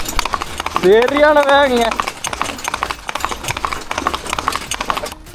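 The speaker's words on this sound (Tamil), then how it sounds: "இங்கே பாருங்க, என்ன வேகத்தில் போகுதுன்னு குதிரை" Horse hooves clip-clopping at a brisk pace as a single horse pulls a heavy load near a bus stand in Kerala, the rhythmic beats mixed under a voice and other voices talking throughout.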